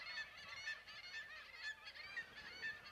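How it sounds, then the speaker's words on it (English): Seagulls in a flock squawk in a rapid, continuous chorus of harsh overlapping calls, faint and steady throughout. "In a flock, they communicate with harsh squawks and body movements."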